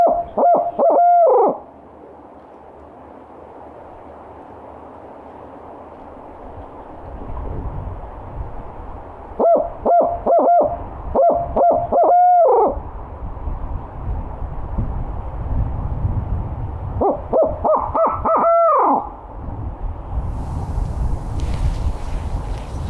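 A hunter imitates an owl's hooting outdoors during a turkey hunt, giving three separate bursts of rhythmic hoots spaced several seconds apart, loud and close, with light wind noise between them.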